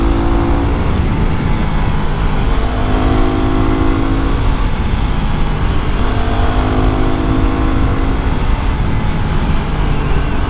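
Yamaha WR250R motorcycle climbing Bear Creek Road, its single-cylinder engine droning steadily up close with rising and falling pitch as the rider works through the throttle, plus wind noise.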